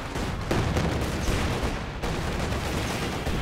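Katyusha rocket barrage in Company of Heroes 2, a dense, continuous rumble of launches and explosions with sharp onsets, loud and sustained with no talk over it.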